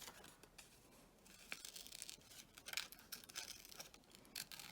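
Scissors snipping out small paper details of a fashion illustration, faint irregular crisp cuts and paper rustles close by, with no talk.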